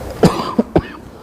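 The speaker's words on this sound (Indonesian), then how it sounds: "punten masih batuk" A man gives three quick, hoarse coughs in close succession, near and fairly loud, with no speech in between.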